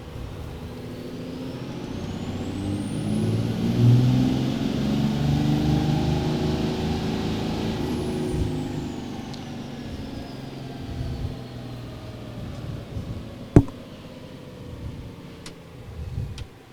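Compound-turbocharged truck engine revving unloaded on a dyno from about 1,300 to 3,200 RPM, a rising whine and turbo whistle sweeping upward, then easing off, with one sharp clack near the end; no talking.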